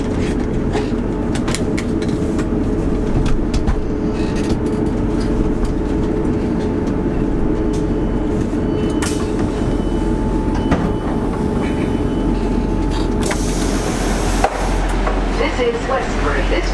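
A GWR passenger train near Westbury runs on the rails, a steady close rumble with rhythmic clicks and clacks heard from inside the carriage, continuous throughout with a brief louder rattle near the end.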